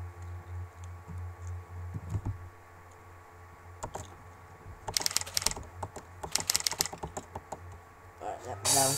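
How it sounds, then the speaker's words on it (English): Fingers type on a computer keyboard in short bursts of rapid clicking, nearby and fairly quiet, with pauses and a low hum in between. "I'm just typing to my friend Shubby"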